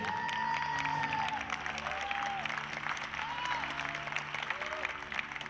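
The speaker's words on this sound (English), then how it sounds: "Let's give them all a big round of applause, please." Audience applause at a Christie's Star Trek props auction, a steady wash of clapping held throughout with crowd noise and a few tonal sweeps and hums running underneath.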